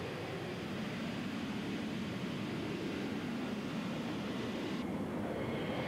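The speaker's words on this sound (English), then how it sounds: "And another new aeroplane here, the BAE 146 feeder liner." A BAe 146 feeder liner jet at the 1983 Greenham Common air tattoo gives a steady, distant engine roar that holds even and broadband throughout, with no talk over it.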